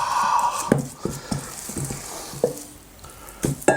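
Jerk chicken burger patties frying in a pan, a steady sizzle broken by a handful of sharp clicks and knocks from handling, close and moderately loud with no talk.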